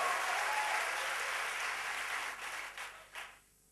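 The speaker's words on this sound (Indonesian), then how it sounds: "Tepuk tangan yang meriah" A church congregation bursts into lively applause, a loud, dense wash of clapping that holds steady and then thins out and fades over the last second.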